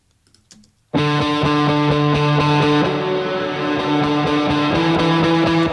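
After a second of near silence, a sustained electric guitar chord through the Neural DSP Cory Wong amp plugin rings out loud and full, washed in echoing delay repeats and a long reverb tail.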